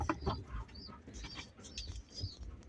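A pigeon in a nest with newly hatched chicks gives soft low coos amid rustling and handling noise, close by, with no talking.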